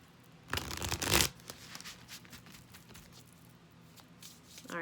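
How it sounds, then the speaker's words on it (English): Tarot cards being shuffled in a close, papery burst of riffling that peaks for about a second, followed by softer intermittent card handling and taps. "Let me try shuffling again."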